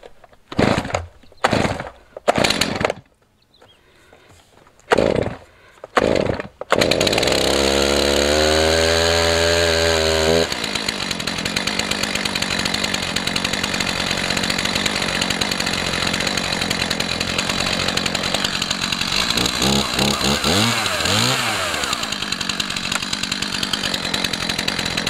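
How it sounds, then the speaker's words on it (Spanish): A Stihl MS 231 chainsaw is pulled over several times, then its engine catches and runs steadily, warming up with a loud, continuous buzzing idle and a brief rise in revs near the end. "Y después dejamos la máquina que se calienta un poquito."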